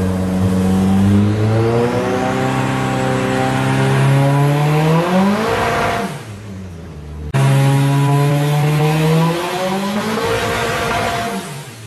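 A car with a Haltech ECU, a 5EFTE engine and 044 fuel pumps revving hard on a dyno power run, a loud close engine climbing steadily in pitch, dropping off briefly, then climbing again.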